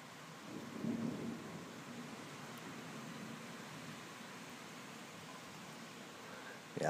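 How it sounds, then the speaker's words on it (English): A thunderstorm in Jackson County, Kentucky: a low roll of thunder swells early, then steady rain and wind keep up a broad, even hiss to the end. "Wind's dying down a little. Rain's not as hard, and it's lighting up outside a lot."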